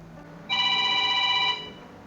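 A single short electronic phone tone sounds for about a second, a steady bright buzzing ring over faint background noise.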